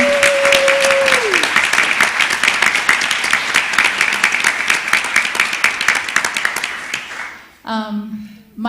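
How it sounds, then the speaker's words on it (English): A theatre audience at an improv playback show claps steadily in a brisk, dense patter, while a sustained tone glides down at the start and voices and a cheer break in near the end. "we have some desire to clap for you"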